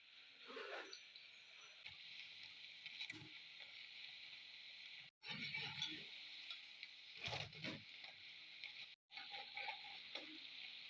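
Snack batter fries in hot coconut oil with a constant soft sizzle, and brief clinks and rustles come through at intervals.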